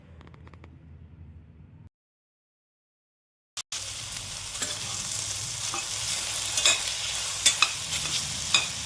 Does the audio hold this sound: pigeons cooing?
no